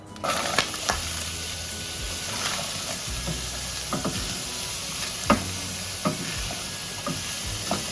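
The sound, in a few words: onion and carrot sizzling in a pan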